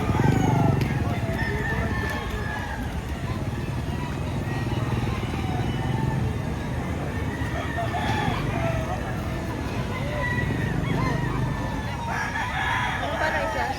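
Chickens and roosters at a poultry market in Lipa, Batangas crow and cluck repeatedly, some close and some farther off, over a busy murmur of people talking and a motorcycle passing.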